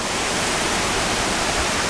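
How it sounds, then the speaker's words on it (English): A waterfall at Blue Mountain Falls on the Isle of Skye pours in a dense, steady roar of falling water, close and loud, with no voices over it. "down by this waterfall here"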